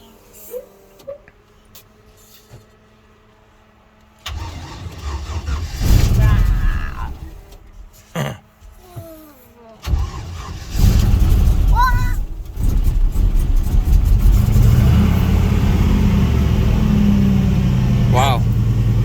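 A turbocharged 5.3 engine in a Mazda drift truck cranks and catches after sitting for a while, then runs with a loud, rough, rumbling idle close by, with people talking before and during the start.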